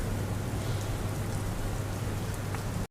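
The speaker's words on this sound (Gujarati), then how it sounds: "તો રાજસ્થાનના અજમેરમાં મુશળધાર વરસાદ જોવા મળી રહ્યો છે" Dense, steady downpour of heavy rain in Ajmer, Rajasthan, hissing on surfaces, continuous and loud, cutting off abruptly at the end.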